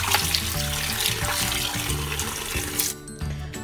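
Running tap water rinses a Korean stone pot, a steady, close hiss and splash that stops abruptly near the end, with no talking.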